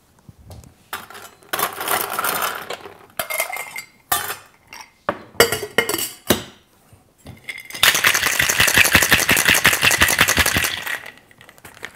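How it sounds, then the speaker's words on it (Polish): Rum cocktail shaken hard with ice in a cocktail shaker, first in short separate bursts of rattling ice, then a long, loud, steady rhythmic rattle lasting several seconds, close up with no talking. "Wszystko dokładnie wstrząsam z lodem."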